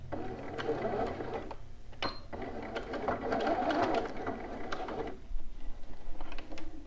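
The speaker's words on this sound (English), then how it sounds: "I'm going to drop down my needle. I'm going to go ahead and back stitch." A sewing machine back stitches a garment seam at a 5/8-inch allowance, running in steady bursts of needle chatter that pause briefly and then resume, close and moderately loud with no talking.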